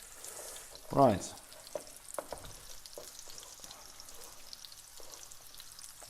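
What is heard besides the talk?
chillies frying in a pan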